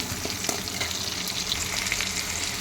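A few dried turkey berries fry in hot oil for a pumpkin tamarind kuzhambu, giving a steady, close crackling sizzle with small pops and light stirring, and no voices.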